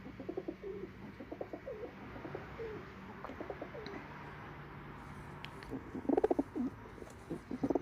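Malwai pigeons in their loft coo in soft repeated throaty bursts, several birds calling close by, with a louder cluster of coos near the end over a quiet background.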